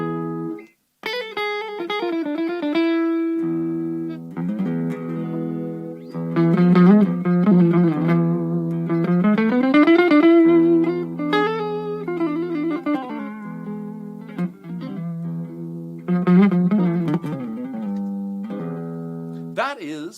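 An electric guitar plays a flowing phrase in the E Phrygian major mode, with sustained single notes and strummed chords over about twenty seconds, close and clear with a slight distorted edge.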